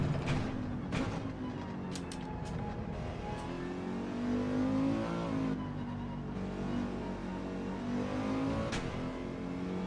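Gr4 race car engine in the racing game Gran Turismo 7, revving and shifting through gears, pitch rising and falling over about ten seconds, with sharp transient clicks on top and no talk.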